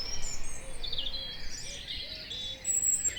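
A dunnock sings from a hawthorn tree in an English garden in spring, its thin, high warbling phrases coming in quick bursts over faint insect chirps, fairly close and with no talking.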